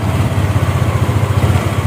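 A motorcycle engine runs steadily at low revs, a loud, continuous throbbing rumble with an even pulsing rhythm, close by and with no voices over it.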